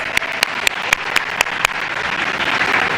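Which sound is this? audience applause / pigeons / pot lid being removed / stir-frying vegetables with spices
audience applause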